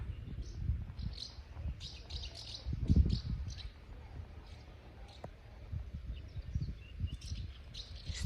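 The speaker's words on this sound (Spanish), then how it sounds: "Están todos los pájaros aquí. Tienen ahí el nido." Small birds chirp and tweet around their nest by an old, seemingly abandoned house in a rural Asturian village, with scattered bright calls over a low rumble of wind or handling noise.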